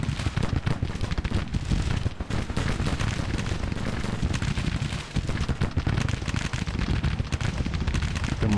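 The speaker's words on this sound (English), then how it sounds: "Rapid fire carbines." Rapid-fire carbines of Confederate cavalry in Grand Tactician: dense, continuous crackling volleys of shots layered over a low battle rumble, loud and unbroken throughout.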